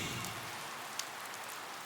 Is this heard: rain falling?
yes